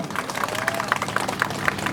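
Audience applause for Govinda KC at a gathering at Maitighar, heard as steady scattered clapping with a murmuring crowd underneath, moderately loud and continuous.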